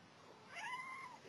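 A female house cat gives a single rising, drawn-out meow, a clear near cry standing alone over faint room hiss.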